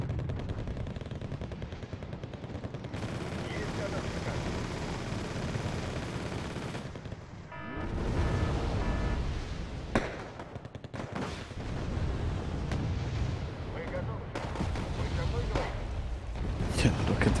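Wargame Airland Battle gameplay is full of airstrike explosions, rapid machine-gun bursts and heavy booms in dense, overlapping volleys, with loud impacts standing out against a constant roar of battle.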